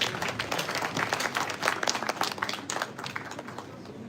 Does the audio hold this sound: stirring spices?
no